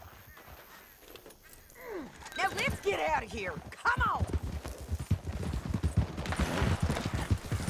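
Horse hooves clip-clop steadily on the ground in an open-world western video game, a rhythmic walking beat that runs under a man's speech and later grows busier, with a brief whinny-like call midway.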